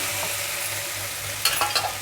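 Crushed raw garlic sizzling in a pan while cooking a peanut-powder vegetable fry, a steady hiss with a few brief scraping clatters of stirring near the end.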